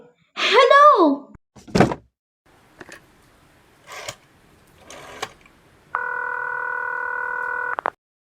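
An old telephone line acts up with scattered clicks and thunks, a short voice-like burst near the start, and then a steady, even line tone that holds for about two seconds before cutting off sharply.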